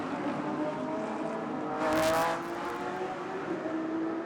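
GT race cars pulling away at the start of a GT Asia round in Thailand, with a rumbling engine drone and a brief loud surge of revving near the middle, heard from a distance with no voices.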